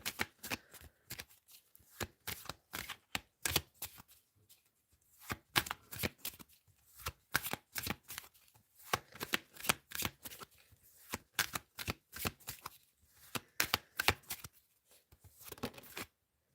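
Tarot cards being shuffled by hand, a long run of rapid riffling and slapping bursts close up, repeating in clusters with short gaps and no voice.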